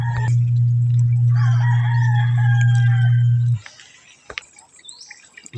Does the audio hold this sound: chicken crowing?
yes